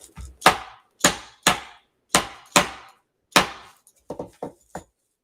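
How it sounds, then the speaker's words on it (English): Sharp hammer strikes while building a Christmas wreath: about six loud, evenly spaced blows, then a quicker run of lighter taps, close up with silence between hits and no talk. "I always like to kind of hammer it in too."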